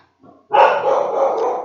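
A pet dog lets out a faint short yip followed by one sustained, loud bark close by inside a house, with no speech alongside.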